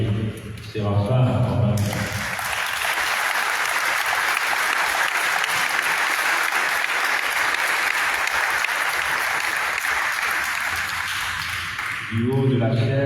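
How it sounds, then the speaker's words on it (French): Sustained applause from a church audience at a Lenten lecture, a dense, even roar of clapping lasting about ten seconds between stretches of someone speaking. "nous allons mettre un grand applaudissement vers l'abbé Séraphin"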